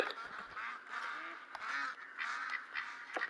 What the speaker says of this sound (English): All the duck sitting here, being very, very loud.